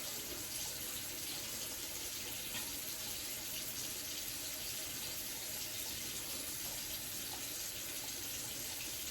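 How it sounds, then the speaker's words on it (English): Cool water runs steadily from a tap for rinsing the face after a glycolic acid gel peel, a constant soft hiss with no breaks. "I like to rinse with cool water. Let me turn the water off."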